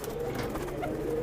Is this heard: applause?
no